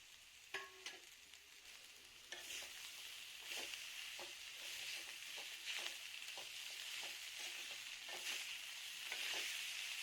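Idli vermicelli pressed into shreds is stirred with cooked vegetables in a hot pan, giving a steady soft sizzle broken by repeated scraping and clinking strokes of a spoon against the metal, close and without talk.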